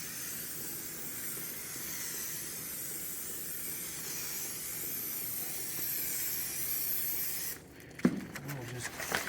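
A can of spray adhesive hisses in a steady, continuous stream for several seconds in a set-construction shop, then cuts off, followed by a few clunks and handling noises.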